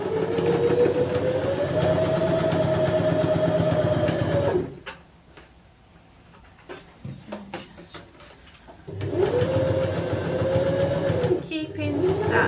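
A sewing machine stitches a 5/8-inch seam around a Peter Pan collar neckline, running steadily and close in two long bursts separated by a quieter pause of clicks and handling noises.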